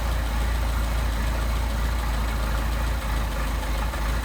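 A Mercedes 190SL engine with Solex carburetors idles steadily, a loud continuous low rumble with an even throb that keeps going for the whole stretch and has no voices over it.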